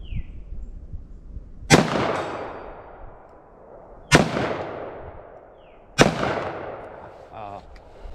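Three loud, sharp .357 Magnum shots from a short-barreled revolver crack out at spaced intervals outdoors, each followed by a long ringing decay, with faint background noise between them.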